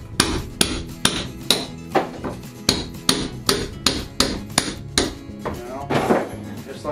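Hammer blows knock soaked plywood squares loose from under a deck, landing as a close, loud, evenly spaced series of about a dozen sharp whacks.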